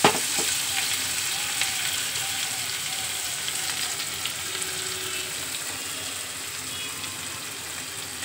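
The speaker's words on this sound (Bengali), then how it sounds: "পেঁয়াজগুলো ভাজতে একটু নুন দেওয়া" Onions frying in a pan with a pinch of salt for a white chicken dish give a steady, close sizzle that runs through the clip with faint stirring, no talking.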